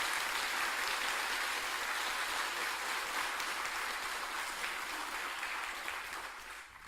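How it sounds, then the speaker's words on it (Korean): An audience at a religious service claps for a musical ensemble with dense, sustained applause that stays steady and then tails off near the end. "우리 앙상불에게 크게 좀 박수로서 격려를 좀 해줬으면 좋겠습니다"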